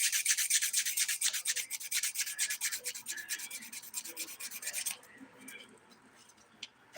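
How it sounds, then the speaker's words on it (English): A 100-grit nail file scrapes rapidly back and forth over a nail to remove black dip powder, making a close, steady rasping that stops after about five seconds, leaving only faint room sound. "So I'm flipping my file over to the 100 grit side to get some of this black that's up in here."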